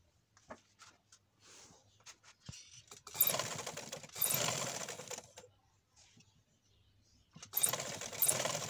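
A sewing machine stitching a cord onto the hem of a kameez, its short stitching bursts starting and stopping between quiet gaps and faint handling clicks, close and moderately loud.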